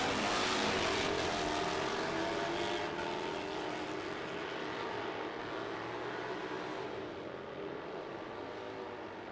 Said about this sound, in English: They're getting ready to rev them up the RPMs and let the clutch out and go